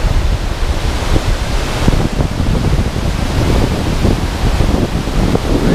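Strong wind blowing in Norwegian waterfall country, a loud continuous rushing roar with heavy gusts buffeting the microphone throughout.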